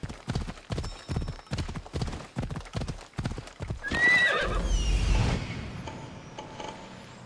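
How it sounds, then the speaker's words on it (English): A horse in Assassin's Creed Odyssey trots with a steady, loud clip-clop of hooves, then gives a sharp, bright whinny over a rising rumble, followed by quieter hoof sounds. "Looks like a sturdy horse."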